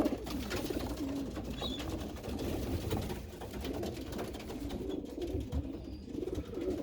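Pigeons coo softly and repeatedly in an aviary, over a dense, constant rustle of background noise with no talking.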